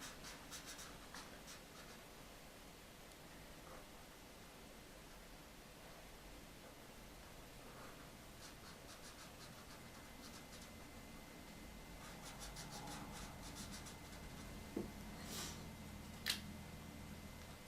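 Faint scratching and ticking of a pen or marker drawing and coloring in a caricature, soft, irregular strokes over a hissy background, with a couple of slightly sharper taps near the end.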